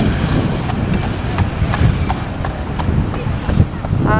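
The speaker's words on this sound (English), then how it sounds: "Got a landau going past." A horse-drawn landau clip-clops past on a windy seaside promenade, steady hoof beats close by under strong wind buffeting the microphone.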